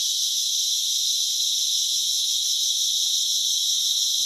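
Dense, continuous high-pitched trilling of many crickets after dark, loud and unbroken, with no voices.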